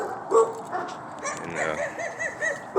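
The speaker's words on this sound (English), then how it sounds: "Damn loud barking ass dogs" Several short dog barks and yips from nearby, irregular and overlapping, with a whiny edge between them.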